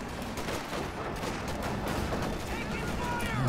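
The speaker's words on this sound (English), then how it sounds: "here comes that bulldozer that I was talking about. This thing has the tendency to wipe squads with its cannon here." Bulldozer vehicle firing its cannon in a real-time strategy video game, heard amid a dense barrage of rapid gunfire bursts and impacts that crackle continuously over the battlefield din.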